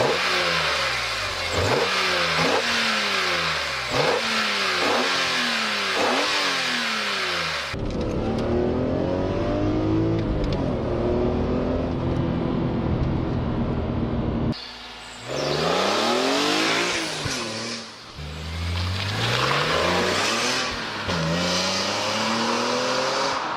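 A BMW M3 engine revving hard in repeated sharp bursts, rising and falling pitch sweeps, then a long sustained high-rev run and more aggressive throttle blips, loud and close with no talk.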